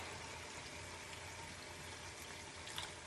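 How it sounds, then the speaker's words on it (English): Water pours steadily into a container, a constant soft splashing rush lasting a few seconds. "I'm gonna add about 2 cups of water."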